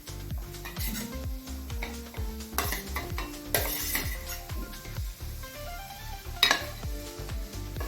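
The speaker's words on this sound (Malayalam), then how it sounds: "ഇതിലേക്ക് നമ്മൾ ഷാലോ ഫ്രൈ ചെയ്ത് വെച്ച എഗ്ഗ് ചേർത്ത് കൊടുക്കാം" Shallow-fried eggs stirred into masala in a pan for an egg side dish, with repeated clinks and scrapes of a spoon on metal over a steady sizzle, close and busy with no voices.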